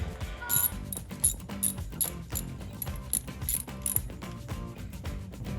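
A 10mm socket on a ratchet wrench loosens the negative battery terminal of a 2012-2016 Jeep Wrangler JK, giving a steady run of rapid, close metallic ratchet clicks with no talking.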